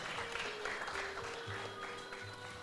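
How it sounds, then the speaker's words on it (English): An audience at a regional sports closing ceremony claps for the coaches, a steady wash of applause from a crowd in a large room, continuous over the short stretch. "I want the team members to give you a round of applause for sticking it out with you."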